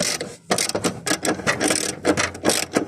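Ratchet tightening towbar bolts on a VW Golf Mk5, heard as close, loud bursts of rapid clicking in several strokes with brief pauses between them.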